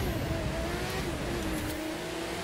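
Porsche 911 Speedster engine in The Crew 2, a steady sustained roar at constant pitch, holding loud throughout with faint tire noise and no talking.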